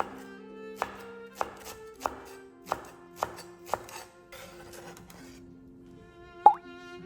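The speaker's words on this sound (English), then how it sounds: "Then cut the scallion diagonally into segments about 2 inches long." A knife chops through Chinese large scallion on a cutting board, cutting diagonal segments: six crisp, evenly spaced thumps close up, a pause, then one sharper final cut.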